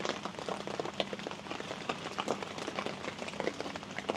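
Rain patters steadily on a backyard camping tent, a dense, even hiss of drops with scattered louder taps, close and continuous with no voices.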